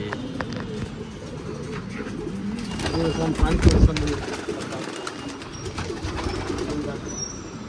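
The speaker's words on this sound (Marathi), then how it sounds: "अशी आमची रेकॉर्ड ब्रेक कबूतर" Racing pigeons coo in a loft, steady throaty cooing and soft wing flutters close by, with someone talking over them and a brief louder burst of activity midway.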